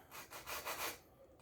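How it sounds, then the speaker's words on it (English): A sanding block rubbed across an arrow point, several quick back-and-forth strokes making soft, faint scraping rasps close by with no talking. "I have some sandpaper, or in this case sanding block, and I'll take a few passes at the point"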